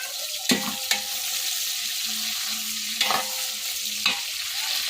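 Onions and green chillies fry for biryani on a stove in a Haryana village kitchen: a constant near sizzle with a few sharp clanks and scrapes as a spoon stirs the pan.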